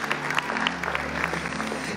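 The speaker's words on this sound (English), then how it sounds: "Give Pastor Bill a big hand clap." A church congregation claps for a pastor during a bilingual sermon, with distinct individual hand claps standing out over a continuous low hum of the room.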